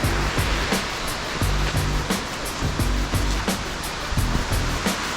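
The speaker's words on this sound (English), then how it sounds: "I'm gonna take you a bit closer to the water stream." A water stream in Westmoreland, Jamaica rushes steadily nearby as a dense broadband wash, with faint clicks and thumps scattered through the flow.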